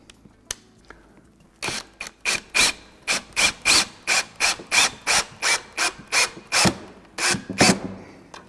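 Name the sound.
driving a screw into a wooden table joint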